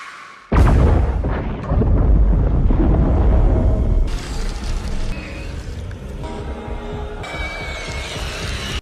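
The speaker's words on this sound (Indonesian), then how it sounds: "pesawat yang sudah terlanjur lepas dari stasiun pun terbang tanpa arah, yang justru malah menabrak stasiun dan menyebabkan ledakan besar" A sudden heavy boom as a spaceship crashes into a station in a film, followed by a long rumbling roar of debris and layered cinematic effects that gradually thin out.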